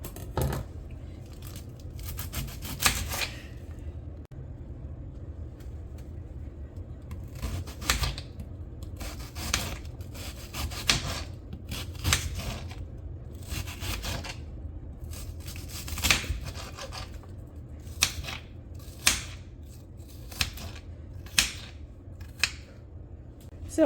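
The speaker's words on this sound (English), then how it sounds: "I'm going to take an onion and I'm going to finely dice this onion." A knife chops an onion finely on a cutting board, making rapid irregular taps and crisp clicks in quick bursts, close and fairly quiet, with brief pauses and sharper isolated knocks near the end.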